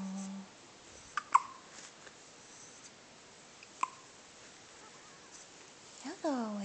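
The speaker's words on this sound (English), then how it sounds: "You have hiccups, huh, baby?" A baby hiccups softly a few times, short faint catches spaced apart in a quiet room, with an adult voice cooing near the end.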